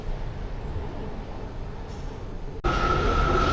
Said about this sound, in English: next train has arrived now